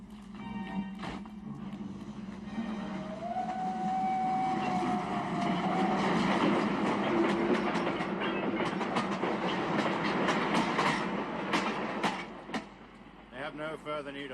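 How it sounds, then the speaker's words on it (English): Train rolling along rails with a continuous rumbling clatter and rhythmic clickety-clack, a sustained tone rising partway through, and sharp clicks near the end. "Back on the train!"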